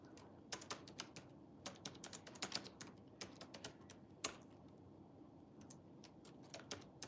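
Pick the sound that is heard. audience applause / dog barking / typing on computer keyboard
typing on computer keyboard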